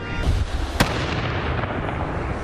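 Police in Calgary set off a controlled detonation of volatile hazardous materials on 1st Street Southwest. A single loud, sharp explosion cracks through a rumbling street-level wash of reverberation.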